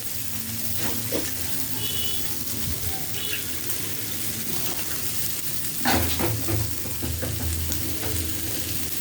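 Vegetables with turmeric and salt being stirred in a hot pan, a steady close sizzle with occasional louder scraping and clattering of the spoon, heard without any talking.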